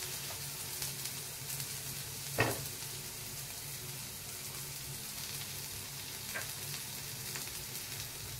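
Crushed green chilies sizzling in a pan with light golden fried onions, a steady soft frying hiss throughout with a couple of brief clinks of a utensil, fairly quiet and without talk.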